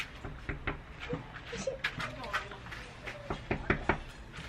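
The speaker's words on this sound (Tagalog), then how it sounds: "Katok siya ng katok." Knocking on a door at night comes as a series of sharp raps in irregular bursts, mixed with thuds and an adult talking to a child throughout.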